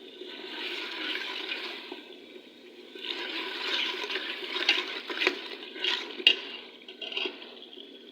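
Spice masala with garam masala powder, kasuri methi and kalonji fries in a pot for degi-style aloo matar. A steady, close sizzling hiss runs throughout, with swelling bursts and scrapes as it is stirred, and no talk.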